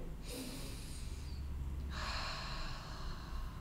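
Slow, soft breathing during a yoga meditation, two long airy breaths close to the mic in a quiet room, the second following a brief pause.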